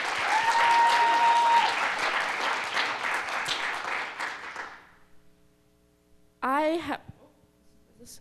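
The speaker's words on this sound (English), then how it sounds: "one more time, a round of applause for Rachel." Audience at a live storytelling event applauding loudly for several seconds before the clapping dies away into near quiet; a person then speaks briefly close by.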